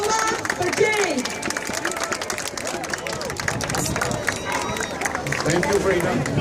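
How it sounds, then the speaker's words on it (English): An outdoor crowd at a sex ed protest applauds and cheers, with steady dense clapping and scattered whoops and voices running throughout. "Let's give him a big round of applause"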